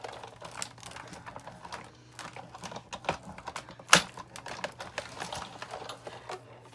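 Die cutting a card background coated with gel medium, paper laid over dies: a steady run of soft mechanical clicks and rolling rattles, close and moderately quiet, with one sharp louder snap midway and no talk.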